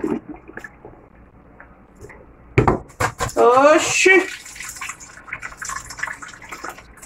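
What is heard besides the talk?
pouring bean cooking water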